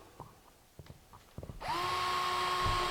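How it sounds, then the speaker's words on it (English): A power drill boring a pilot hole through laminate flooring into the subfloor, with a few soft handling knocks first and then a sudden steady, close whine that holds to the end. "I just get through the laminate and a little bit through the subfloor, and I made myself a nice little pilot hole"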